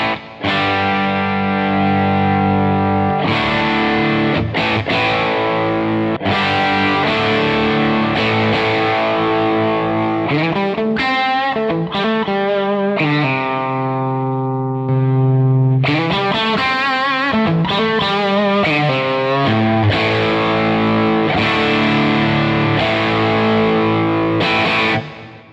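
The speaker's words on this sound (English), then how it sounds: "Let's see how much drive we can get out of the clean channel." Electric guitar overdriven through the clean channel of an Amplified Nation Ampliphonix amp, playing loud crunchy chords and riffs with rich distorted harmonics, a held chord in the middle, then more rhythmic strumming, steady and alone.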